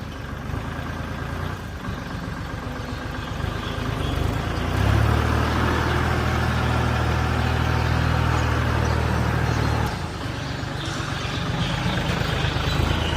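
A Kubota L3408 diesel tractor engine idles steadily, with a deep low rumble that swells louder midway through before settling back to a steady chug.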